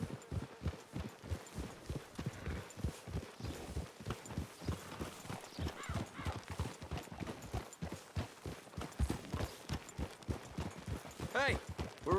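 Horse hooves clip-clop at a steady walking pace in Red Dead Redemption 2, close and continuous, with a faint ambient bed beneath the rhythmic strikes.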